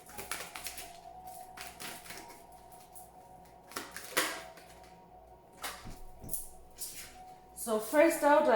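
Archangel Oracle cards being shuffled by hand, a run of soft papery riffles and taps in irregular bursts, close and fairly quiet, growing busier toward the end.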